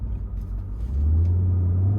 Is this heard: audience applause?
no